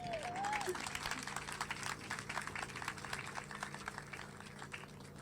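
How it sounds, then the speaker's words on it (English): Outdoor crowd applause at a park groundbreaking event in Oxnard, a dense steady clapping that starts strong with a brief whistle or cheer and gradually thins toward the end. "one more round of applause for Jenny for coming up here and sharing those remarks"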